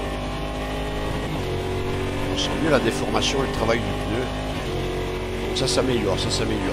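A race car engine roars in the Automobilista 2 sim racing game, a P1 Generation 2 prototype running with DRS open at over 280 km/h. The engine note stays loud and sustained, with shifting revs and brief higher whines, while someone comments briefly over it.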